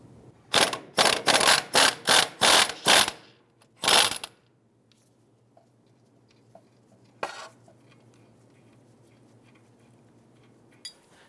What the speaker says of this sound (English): We're going to go ahead and use our impact gun and a swivel to go ahead and remove that nut.